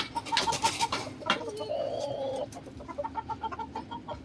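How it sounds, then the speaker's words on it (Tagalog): A chicken clucks softly in a quiet outdoor setting, a few short bird calls followed by a run of rhythmic clucks near the end, faint and fairly close. "painumin ko muna yung manok"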